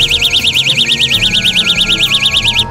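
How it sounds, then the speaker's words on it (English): The built-in burglar alarm on a car escape tool wails in a loud, fast warbling siren, a steady rapid up-and-down tone that runs close and continuous before cutting off. "a burglar alarm that makes a loud noise to scare off"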